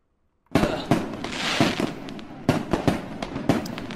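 After a moment of silence, video game fireworks burst continuously in a rapid crackling barrage, with repeated sharp pops and bangs close by.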